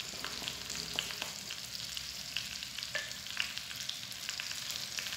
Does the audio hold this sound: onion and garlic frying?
yes